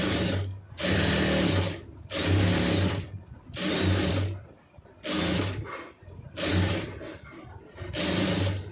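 A sewing machine stitches the lining of a round neck on a blouse, running in loud close bursts of about a second each, separated by short pauses, with no voice over it.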